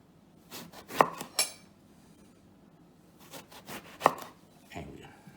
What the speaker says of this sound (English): try to cut everything equally size